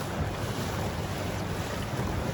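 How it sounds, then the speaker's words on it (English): A motorboat tows Sunfish sailboats back across Lake Garda after a day of racing at the world championship, with steady engine drone, rushing water and heavy wind buffeting the microphone throughout. "We raced 2 races, and now we're getting towed back."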